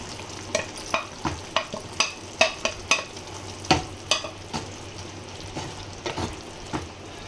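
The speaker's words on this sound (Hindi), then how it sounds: "इसी में हम तला हुआ चिकन डाल देंगे पूरा।" Fried chicken being stir-fried in masala in a pan: a run of regular spatula scrapes and knocks, about one every half second, over a soft continuous sizzle, close up and without talk.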